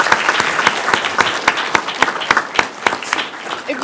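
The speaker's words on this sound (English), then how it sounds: "Let's give them a round of applause." Applause from the audience at a Westland city council meeting, a steady wash of many hands clapping with a few sharp, close claps standing out, loud and continuous throughout.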